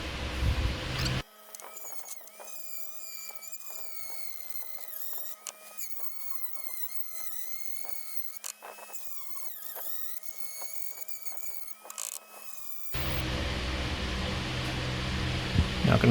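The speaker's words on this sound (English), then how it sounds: "So Dremel with the burr bit, or whatever that bit's called." A Dremel rotary tool fitted with a burr bit hollows out material, giving a steady, close high-pitched whine that runs for about twelve seconds and then cuts off.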